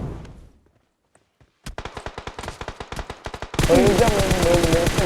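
Rapid automatic gunfire in the PUBG battle royale game, a burst of close, sharp shots in quick rhythm followed by denser, louder firing, after a brief quiet start; a voice is heard over it.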